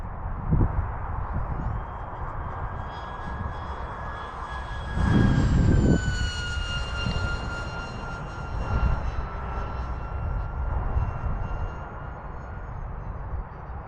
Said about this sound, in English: That sound that motor makes is sick. Paired with that 3-bladed prop, it's a nice sound.